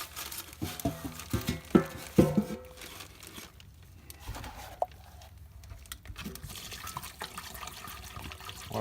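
Vinegar poured from a gallon jug into a gallon plastic bag for soaking an antique garden tool: uneven splashing and gurgling trickles, loudest early on, then fading to quieter dribbles with pauses.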